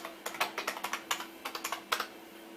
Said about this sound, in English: I'm going to walk up to the keyboard and press or type grab key